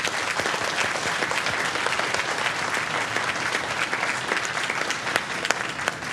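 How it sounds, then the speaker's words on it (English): Audience at a school student success celebration gives the parents a round of applause, a full, even clapping from many people sustained for several seconds without speech. "Can we just give our parents a round of applause?"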